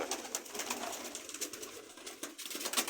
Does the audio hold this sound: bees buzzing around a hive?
no